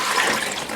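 Hot water, about eight cups, poured steadily into an Instant Pot pressure cooker for a soup mix, a continuous close rushing splash lasting under a second with no talking.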